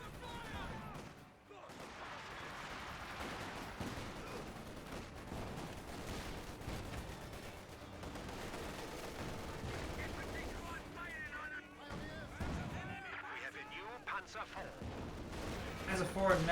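Indirect artillery fire in Company of Heroes 2 rumbles as continuous gunfire and distant blasts in a dense, steady battle din throughout, with a voice commenting over it.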